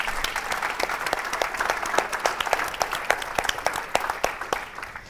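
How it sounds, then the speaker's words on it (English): Sustained audience applause at a city analytics town hall kickoff, dense steady clapping from a crowd filling the whole stretch with no talk over it. "So let's give a round of applause to Jolly McPhee."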